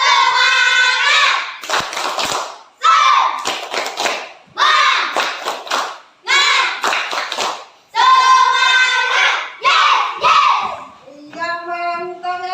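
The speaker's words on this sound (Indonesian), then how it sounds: "Iya, tepuk tangan semuanya ya. Tepuk tangan." Group of schoolchildren clapping in a classroom on a teacher's cue, rhythmic bursts of hand claps in short patterned phrases with gaps between, children's voices mixed in and a sung tone near the end.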